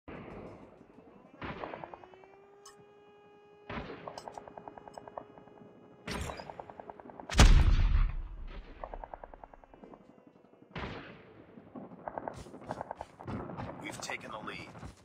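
Gunfire in Call of Duty gameplay: sharp single shots and short bursts ring out every couple of seconds with ringing tails, one heavier blast near the middle, and game voices talking between them.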